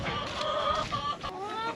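Several chickens cluck and murmur close by, overlapping calls rising and falling continuously.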